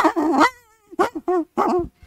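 A teacher imitating a dog with a run of whimpering, yipping dog-like sounds in short bursts separated by brief gaps, loud and close.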